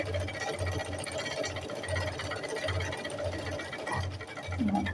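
A sewing machine stitches fabric in a steady, rapid mechanical chatter, its regular low pulses running continuously at moderate volume without speech.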